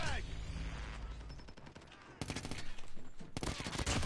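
Mini LMG fire in Call of Duty Mobile comes in fast, loud repeated bursts, with shorter pops and game effects in between and a dense volley near the end.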